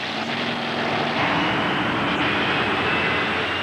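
Pulling tractors packing more than 12,000 horsepower line up for the full pull, their engines sending out a loud, steady, rumbling roar that fills the air without a break.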